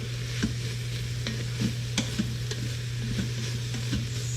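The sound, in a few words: onion frying with ground beef in a pan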